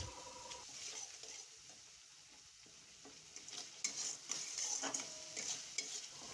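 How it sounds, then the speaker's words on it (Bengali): A spice paste of turmeric, salt and Kashmiri chilli powder is stirred and fried in a pan for a vegetarian moong dal and eggplant dish, giving a faint, steady sizzle with soft scraping stirs. "দিয়ে মশলাটাকে ভালো করে নাড়াচাড়া করে আমি কষিয়ে নেব।"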